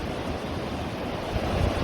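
Choppy ocean waves breaking on the shore, a continuous broadband wash of surf with wind rumble, steady and fairly close, with no speech.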